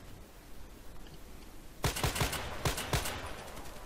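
EBR Marksman rifle fire in the shooter game Contract Wars, a quick run of about six sharp, loud shots in an uneven rhythm after a stretch of faint background noise.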